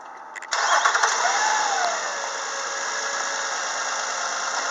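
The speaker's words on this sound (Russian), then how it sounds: "Работа двигателя на холостом ходу." A 2005 Nissan Murano with a 3.5-litre engine cranks and fires up, then settles into a steady, even idle with a constant mid-pitched hum, heard close and alone.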